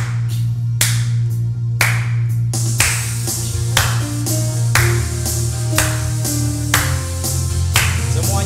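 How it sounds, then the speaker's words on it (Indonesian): Children clap along in rhythm at Sunday school, sharp regular hand claps roughly once a second over a loud sustained musical accompaniment. "Tepuk tangan"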